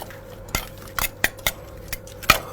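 Metal utensils clink and scrape against a bowl while a child stirs a food mixture, giving a string of sharp, irregular taps and clatters spaced about every quarter to half second, close and fairly quiet.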